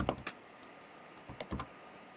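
Keys clack on a computer keyboard while a file name is typed on a Windows 10 PC, a few sparse, crisp taps in two small bursts, quiet and close.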